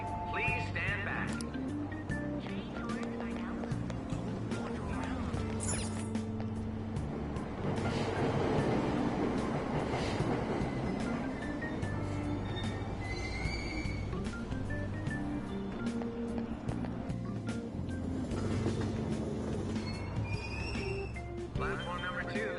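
A subway train departs a station in Persona 5 Royal, a steady rumbling rail roar with squealing metallic tones as it pulls away, under a continuous layer of station announcements and voices.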